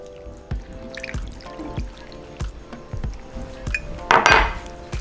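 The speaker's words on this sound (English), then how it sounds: "we're going to add 1 cup of the broth" Broth is poured into shredded slow-roasted pork for cochinita pibil, with liquid splashing and dripping against a bowl amid clinks of dishes and utensils, ending in a louder splashy burst.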